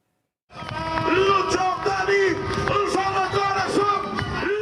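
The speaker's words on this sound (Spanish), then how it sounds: "Entre vítores y aplausos cerró su campaña electoral el candidato presidencial izquierdista Luis Arce en la ciudad del Alto" A crowd cheers and whoops at Luis Arce's closing presidential campaign rally in El Alto, Bolivia, a loud sustained roar of voices with shouts and chants rising over the din.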